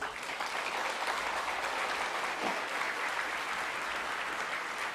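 A church congregation at a celebration service applauds together, a broad, sustained roar of many hands clapping evenly throughout, with no one speaking over it.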